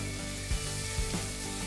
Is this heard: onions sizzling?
yes